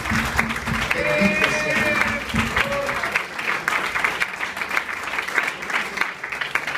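A church congregation applauds loudly for Jesus during a sermon, dense sustained clapping with a few voices and a brief tone mixed in, easing slightly toward the end.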